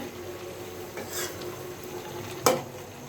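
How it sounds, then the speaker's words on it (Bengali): Chicken gizzard and liver with ginger sautéing in a pan, a steady low sizzle broken by soft stirring scrapes and one sharp utensil knock against the pan, close and clear, with no talk. "মাংসটা কষতেছে"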